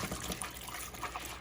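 Tap water runs steadily into a container being filled for washing husky fur, a soft continuous splashing stream with no talk over it.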